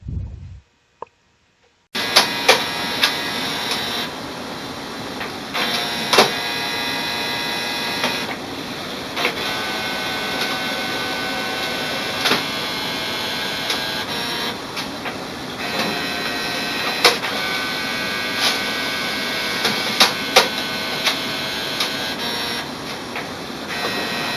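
An HP OfficeJet printer's automatic document feeder whirs and clicks as it flips and scans a two-sided page, a steady mechanical drone with repeated sharp clicks and brief pauses.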